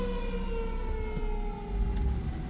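A fire truck siren drones and slowly slides in pitch over low engine rumble, moderately loud and continuous as emergency vehicles go by outdoors.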